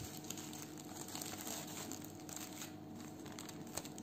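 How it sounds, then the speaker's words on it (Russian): Plastic zip-lock bags crinkle and rustle steadily up close, a continuous crackly handling sound with no talking. "Купила зип-пакеты."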